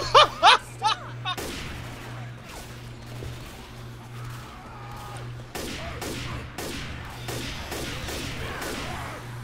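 Gunshots from Left 4 Dead 2 on the farmhouse finale, a quick burst of sharp shots followed by scattered single cracks and later a run of rapid fire over steady game background noise.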